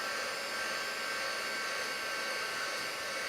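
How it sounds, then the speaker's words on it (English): Craft heat tool blowing steadily while drying distress ink on a card, a constant close whooshing airflow with a fan whine, loud and unbroken with no talking. "let me just hit this with my heat tool and give it a good dry."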